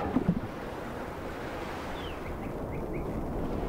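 Watercraft moving through water in the game Kerbal Space Program 2, a steady low wash of water and rumble with a few faint chirps midway, continuous and fairly quiet.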